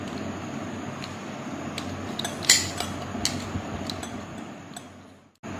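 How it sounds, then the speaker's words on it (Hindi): Ice cubes dropped into a glass for a pomegranate lychee mocktail with lemon slices, mint and lemon juice, giving a few sharp clinks around the middle over a steady low background hum, then a brief drop to near silence at the end. "इसके साथ हम इसमें आइस क्यूब्स डालेंगे।"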